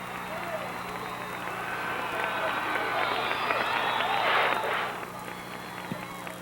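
A crowd at the 1986 New Mexico Tournament of Bands awards ceremony applauds the marching band finalists, a broad, continuous wash of clapping and cheering from a large audience, swelling slightly before easing, with a faint electrical hum beneath.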